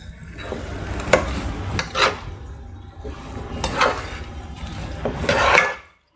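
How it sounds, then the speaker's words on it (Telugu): Eggplant being mixed by hand with masala, salt and chili powder: close, soft squishing and rubbing strokes in several uneven bursts, with no talk. "మొత్తం మసాలా, ఉప్పు, కారం ఇవన్నీ వంకాయకి కొట్టేటట్టు మొత్తం అంతా కలిపేసుకోవాలన్నమాట."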